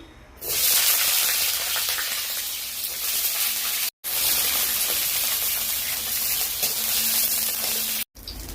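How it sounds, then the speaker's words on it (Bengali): Vegetable drumstick stems frying in hot oil in a pan for sukto, a loud continuous close sizzle with brief dropouts, no voices. "ডাঁটাগুলো ভেজে নিচ্ছি"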